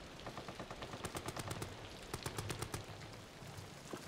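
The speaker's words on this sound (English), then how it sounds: "I need the, R button so I can use my gun." Rapid gunfire from a handgun in the horror game Amnesia: The Bunker, a fast run of sharp cracks over a rumbling backdrop, moderately loud with no talk.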